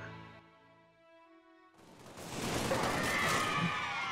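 Rifle fire crackles in a Halo multiplayer match, starting after a quiet stretch of tonal game sound and then breaking into a loud, dense burst of shots and impacts that continues to the end.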